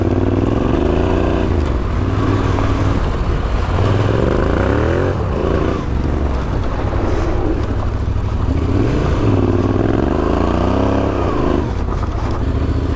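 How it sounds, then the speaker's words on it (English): Adventure motorcycle engine droning and revving continuously as the bike slides its rear wheel through a corner during off-road drift training, loud and close with shifting pitch and no talk. "So now we're doing some exercise where we should go in a corner and do some drifting and also just taking it slow, having some traction."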